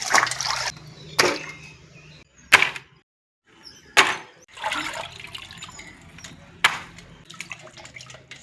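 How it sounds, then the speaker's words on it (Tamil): Murrel fish being rinsed in water for a white biryani, heard as several sharp bursts of splashing and sloshing separated by short pauses, fairly close and with no talking. "அலசி எடுத்துக்கலாம்."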